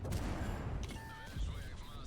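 A tank cannon shot in World of Tanks rings out in a burst, followed by a rumbling tail and scattered battle noise at moderate volume.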